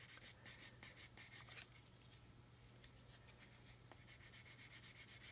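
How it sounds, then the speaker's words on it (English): Fine sanding on the plastic fuselage of an Airfix 1/72 Vulcan model kit: quiet, close rhythmic rubbing strokes in quick bursts, a pause of lighter scraping, then the regular back-and-forth strokes resume under a faint steady hum. "I can see where I'm sanding, and I'm trying to keep that flat even"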